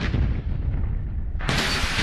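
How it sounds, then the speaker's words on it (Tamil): Explosion effect from the anime Kaiju No. 8 as a snake creature blows up, a loud rumbling blast that surges into a sudden bright, crackling burst partway through. "அந்த பாம்பு வெடிக்கவும்"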